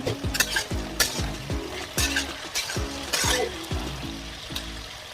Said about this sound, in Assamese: অকণমান পানী দিছোঁ, ভালদৰে মিক্স কৰি ল'ম।